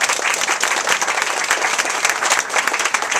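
Dense audience clapping at a family gathering at a hacienda, loud and sustained throughout with no talk over it.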